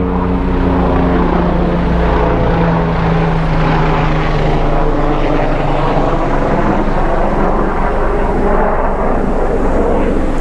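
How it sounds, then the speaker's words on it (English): Helicopter or similar aircraft passing overhead during outdoor garden planting, a steady loud rotor and engine drone with low harmonic hum that holds throughout, slowly shifting as it passes. "Hold on, helicopter."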